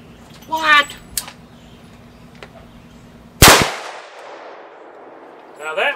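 A single loud, sharp report from a CMMG rifle in .223 cracks out near the middle, its echo trailing off over a second or so, with a brief voice before it and another at the end.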